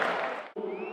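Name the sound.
crowd applauding goalkeeper leaving the field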